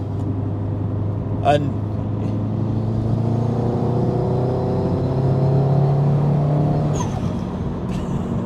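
A forged Subaru Impreza STI hatchback tuned to 465 bhp accelerates in sports mode, its engine note rising steadily and droning close by while someone talks over it.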